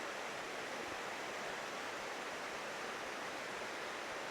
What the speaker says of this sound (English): looking down on the waterfall that goes into a pool.